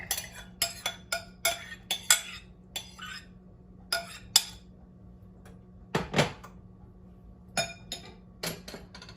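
Metal utensils clink and scrape against a bowl while spaghetti squash is mixed with cashew-seed cheese, a series of sharp close taps and knocks in an otherwise quiet kitchen, with one louder clatter midway.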